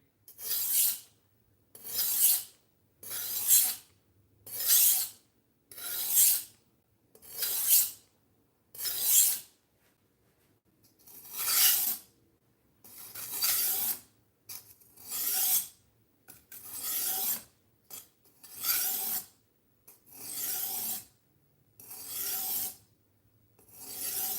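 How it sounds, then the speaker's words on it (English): A budget knife being sharpened on a stone gives about fifteen evenly spaced rasping strokes, each a second or so long, close and loud, with brief pauses between and a longer gap midway. "Never sharpen towards you."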